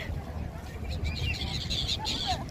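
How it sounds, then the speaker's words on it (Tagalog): Many birds call at a beach with a view of the Burj Al Arab, scattered squawks and honks in the distance mixed with wind and crowd noise as people chatter nearby. "Ang daming ibon."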